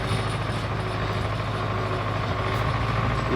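A heavy MTZ tractor engine drones steadily with a low, rumbling hum and mechanical rattle, sounding close and constant rather than clearly revving, as it speeds along a road.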